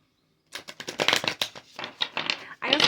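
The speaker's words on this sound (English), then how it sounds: "we're gonna get some more oracle cards real quick. So I'm gonna shuffle them." Oracle cards are shuffled by hand, making a close, crisp run of quick riffling flicks and slaps that starts after a short silence and grows louder at the end.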